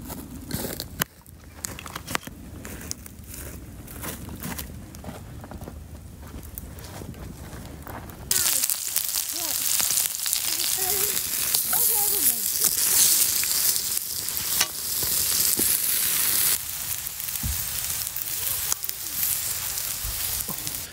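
Half an onion and elephant garlic sizzle over an open campfire, a quieter crackle giving way around eight seconds to a loud, steady hiss of frying with faint pops throughout.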